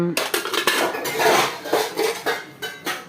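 Pots, pans and cutlery clatter continuously at close range as freshly cooked rice, brinjal-radish sambar and raw banana fry are packed for lunch, with repeated metallic clinks and scrapes in a steady, busy rhythm and no talk.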